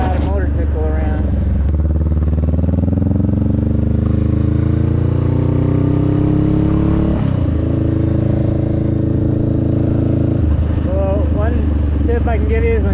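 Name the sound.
motorcycle riding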